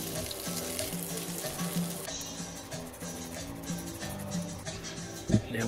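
Green beans and bacon sizzle and fry in a pan, a steady crackling hiss with scattered pops and one sharper clatter near the end, close and fairly quiet.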